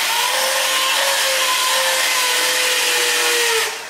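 A handheld power drill bores continuously into a wall of a mansion living room being furnished, a loud, close, steady whine lasting several seconds before cutting off.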